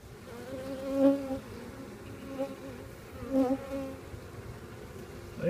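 Honeybees buzz inside a small queen cage during a removal from a BBQ grill, close, wavering hums that swell in brief bursts over a quiet background.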